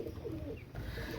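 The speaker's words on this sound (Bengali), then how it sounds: "এই জোড়া গোল্ডেন কবুতর মাশাআল্লাহ।" A pair of golden pigeons cooing, a brief soft low coo close by over a faint background hum.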